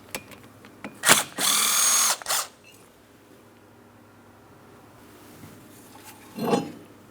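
A power driver spins out a small T30 Torx screw holding the front brake rotor of a 2003-2007 Cadillac CTS, a sharp ratcheting buzz lasting about a second, preceded by brief clicks, then quiet with a clunk near the end.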